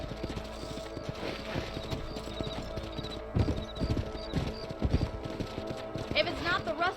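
Horse hooves clip-clopping at a steady riding pace in the Red Dead video game, rhythmic close hoofbeats with occasional heavier thuds, and people talking over them.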